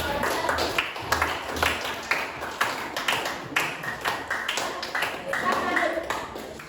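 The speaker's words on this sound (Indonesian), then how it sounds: "Bagus kalian malah tepuk tangan." A group of students in a classroom clapping unevenly, a patter of hand claps mixed with people talking over it.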